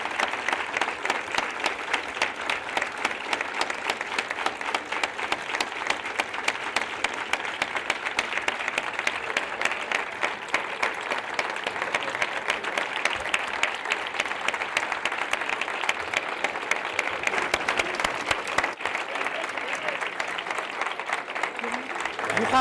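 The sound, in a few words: audience applause after a speech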